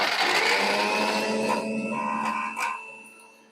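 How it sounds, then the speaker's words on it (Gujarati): A mixer grinder whirs loudly and steadily as it grinds dried mint and coriander in its jar, then slows and fades toward the end. "આને છે ને મિક્સર જારમાં લઈ લઉં છું અને પીસી નાખું છું."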